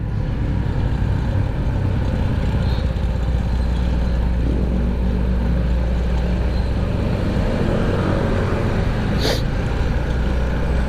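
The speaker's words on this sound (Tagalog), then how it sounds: "Ang lalaki yung mga truck dito mga idol pag ganitong oras" Heavy trucks and motorcycles moving through traffic in San Mateo around late morning, a continuous loud engine roar and road rumble with no break, heard from close among the vehicles.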